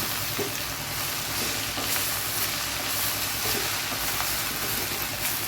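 Onion and manathakkali greens sauté in a pan with a steady, dense sizzle that holds evenly throughout, broken by a few soft stirring scrapes, with no one talking.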